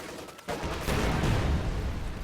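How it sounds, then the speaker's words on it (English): An anti-tank gun fires in a World War II video game, a heavy booming blast erupting after a short pause and rolling on loudly to the end. "AT gun's about to destroy the fighting position."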